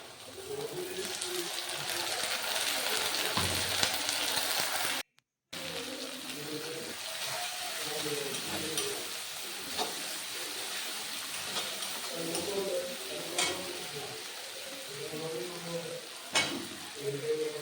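Ground spice paste sizzling and frying in a hot pan while cooking ghugni, a Bengali dried-pea curry, with a steady close crackle, a brief dropout, and occasional stirring scrapes throughout.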